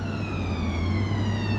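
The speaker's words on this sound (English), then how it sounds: "That's a siren." An ambulance siren passes in traffic with a loud, sustained wailing tone that slides slowly downward in pitch over a low engine rumble, and no one talks.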